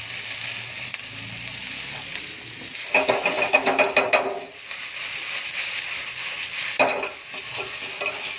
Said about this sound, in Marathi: 2 मीडियम आकाराचे कांदे ना असे स्लाईसमध्ये कट करायचे आपल्याला. त्याला आहे ना एक सोनेरी रंग येईपर्यंत मस्त भाजून घ्यायचं आहे.